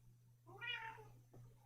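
A cat gives a single drawn-out meow, near and moderately loud, followed by a short softer chirp-like call against a steady low electrical hum.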